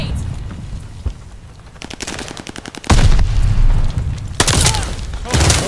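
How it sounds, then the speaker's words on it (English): In the multiplayer shooter Call of Duty: Vanguard, a rapid burst of gunfire gives way to several heavy, booming grenade blasts, loud and close, with rumbling tails between them. "Throwing grenades!"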